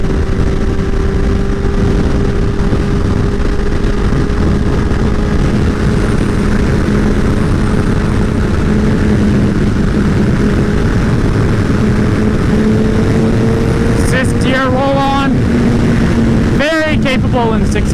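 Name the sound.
Honda CBR 1000 RR Fireblade motorcycle accelerating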